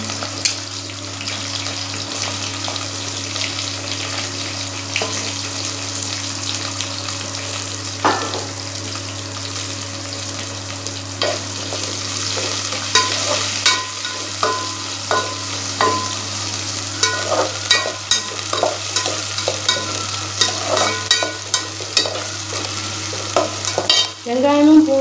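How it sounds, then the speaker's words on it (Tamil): Small onions and garlic sauté in hot oil with mustard seeds and curry leaves for a bitter gourd kuzhambu, sizzling steadily up close while a spoon stirs and scrapes the pan in repeated clinks. "வெங்காயமும் பூண்டு நல்லா பொன்னிறமாக வர வரைக்கும் நல்லா வதக்கிடுங்க."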